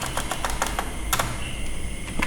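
Computer keyboard typing code, a quick irregular series of close clicky keystrokes with short pauses over a steady background hum.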